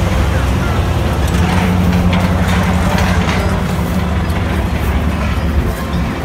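Engine of an antique Minneapolis Moline G1000 tractor idling steadily at an outdoor tractor show, a low continuous rumble with a faint hum, fairly close, with crowd noise and indistinct voices in the background.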